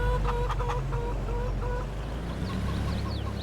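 Chickens clucking inside a trailer as they are taken to an animal dealer, with steady, overlapping clucks and short calls over a constant low rumble, close by with no talk.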